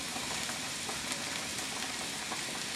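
Chopped medium onion and about three stalks of celery softening in grapeseed oil for chicken soup, giving a steady, dense sizzle that holds even and close throughout with no talking.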